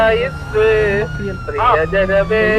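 An ambulance siren wails in a roleplay video game, its rising and falling tone sounding loud and close beneath people talking.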